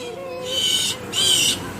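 A bird hoots in two sustained, high-pitched calls, each lasting about half a second with a short gap between, heard fairly close over a quiet room background.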